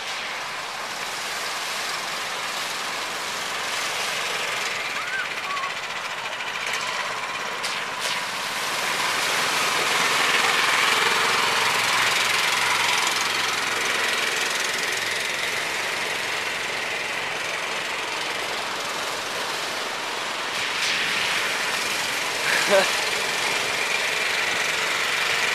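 A cart engine runs steadily while warming up, a constant mid-level mechanical drone that swells slightly partway through, with no voices over it.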